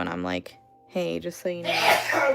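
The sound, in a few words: sneeze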